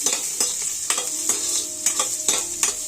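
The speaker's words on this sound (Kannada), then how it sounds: "ಆಯಿಲ್ ಹಾಕೋತಾ ಇದ್ದೀನಿ. ಸಾಸಿವೆ, ಜೀರಿಗೆ, ಇದರೊಟ್ಟಿಗೆ ನಾನು ತೆಗೆದುಕೊಂಡಿರುವ ಕ್ಯಾರೆಟ್" Carrots frying in oil and butter with mustard seeds and cumin, a steady close sizzle with repeated stirring scrapes at roughly half-second intervals, no voices.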